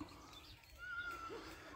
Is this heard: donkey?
yes